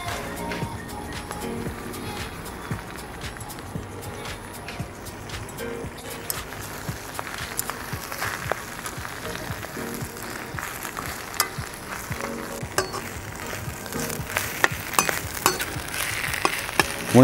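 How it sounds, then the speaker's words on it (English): Spinach fries in a hot pan after the base has turned golden, giving a steady crackling sizzle throughout with scattered clinks and stirring noises, nearby and fairly loud, with no talking. "When we reach this color, we can add our spinach"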